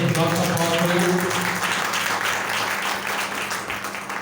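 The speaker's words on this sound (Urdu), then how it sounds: "آئے خدا کے پاک روح کے لیے زوردار تالیاں بجا دیں۔" A church congregation applauds loudly for the Holy Spirit during a service, a dense continuous wash of clapping that holds steady throughout, with a voice heard briefly at the start.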